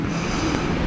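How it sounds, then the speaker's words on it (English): Cold wind buffets the microphone in a continuous, rushing roar with no other sound clearly audible. "I don't even know if you're going to hear this because of the wind."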